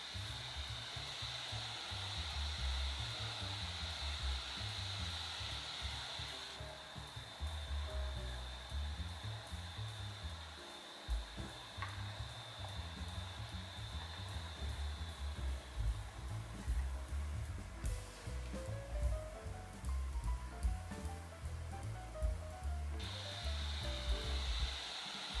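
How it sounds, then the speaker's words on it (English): Cooling fan of a Steam Deck handheld running Windows, giving a steady, faint whirring hum with a high tonal whine that comes and goes, heard alone and very close. "Here is my comparison test for the fan noise."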